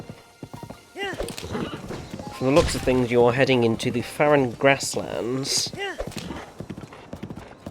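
Horse hooves clip-clopping at a steady riding pace in Zelda: Breath of the Wild, a rhythmic patter running under a narrator's voice and music with a brief whinny, moderately loud and close.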